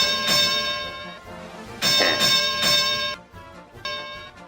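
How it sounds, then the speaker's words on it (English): A bell rung repeatedly at a pro wrestling show, bright metallic strikes with long ringing tones that swell and fade in several loud bursts. "And you'll always get a bell."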